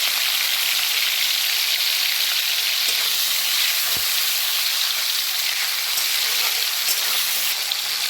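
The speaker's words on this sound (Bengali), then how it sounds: "তেল গরম হয়ে গেলে আমি এর মধ্যে ছেড়ে দিচ্ছি নুন দিয়ে মেখে রাখা" Salt-rubbed prawns frying in hot oil give a loud, steady, close sizzle that crackles continuously with no pauses.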